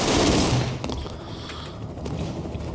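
An enemy explodes amid rapid gunfire in the Broforce video game, a loud blast and rattling shots at the start fading into lighter scattered pops and thumps.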